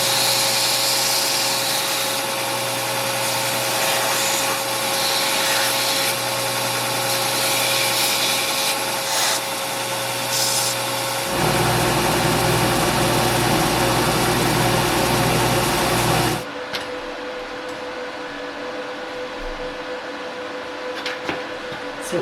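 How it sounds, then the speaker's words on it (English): A power grinder working down knife blades: a loud, steady high-pitched whine with a shift in pitch partway through, then the motor stops and spins down into quieter background noise. "I'm gonna go ahead and grind these all down so we have blank slates"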